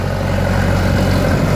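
John Deere 3020 tractor engine idling after a cold start outdoors, a steady low diesel chug that stays loud and constant throughout, with wind noise mixed in.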